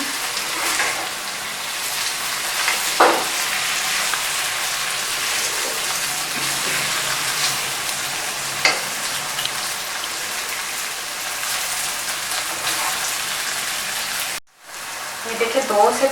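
Okra with raw mango sizzles and fries in a pan over a high flame, a continuous loud crackle with occasional spoon scrapes and a brief break near the end.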